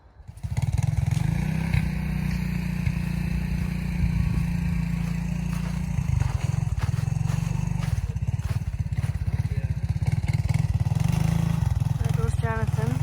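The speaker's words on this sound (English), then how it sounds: "Jonathan's gonna hop on his little three-wheeler, his little Honda three-wheeler over there and take her for a spin" A small Honda three-wheeler's engine idles and pulls away on a frozen river at night, a loud steady low drone with clattering over it that carries on throughout.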